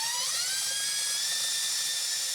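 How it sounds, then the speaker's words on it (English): A high-pitched power drill whines steadily with a 1/8 inch bit, boring a hole while fitting an Ice Crusher cab heater on a Honda Talon; the tone rises slightly at the start, then holds. "I'm using the 1/8 inch drill bit."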